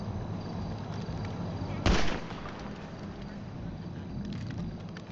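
A single sharp gunshot in GTA 5 cracks out loudly midway, set against a steady background of game ambience and low noise.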